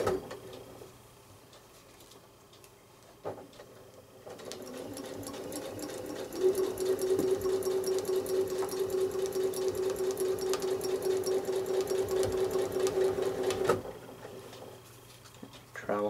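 A sewing machine travel-stitches a quilt block, starting with a few short bursts and then running in a steady, fast, continuous rhythm before stopping, close and clear.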